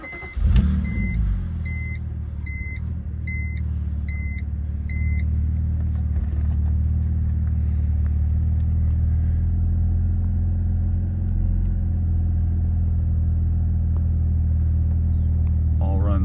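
A 2007 BMW Z4 3.0si Coupe with about 140,000 miles starts with a short crank and settles into a steady, smooth idle, a low rumble held for the rest of the time, with a few electronic chimes at the start.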